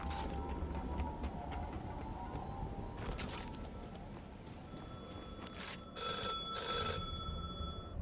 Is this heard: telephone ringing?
yes